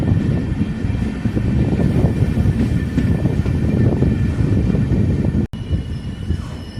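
Loud, continuous rumble and clatter of the Pandian Express passenger train arriving at Kodaikanal Road railway station, close by, with a brief dropout near the end.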